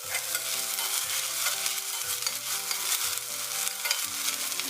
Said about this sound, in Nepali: अब मैले गोलो मसिनो गरी काटेको 1 कचौरा जति भिन्डीलाई मैले तेलमा हाले।